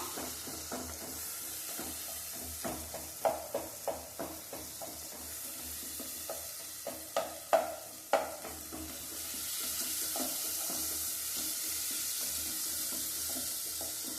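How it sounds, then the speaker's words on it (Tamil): Ginger, garlic and pepper sautéing in hot oil: a steady soft sizzle broken by scattered scraping stirs, a louder cluster of scrapes in the middle, then a smoother hiss toward the end. "இந்த எண்ணெயிலே நல்லா வதங்கி வரணும்."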